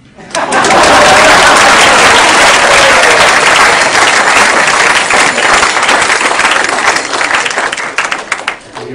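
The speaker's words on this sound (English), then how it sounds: "Please clap." Loud, dense applause from an audience at an evening spiritual class in San Diego, swelling in quickly and holding steady for several seconds before thinning slightly toward the end.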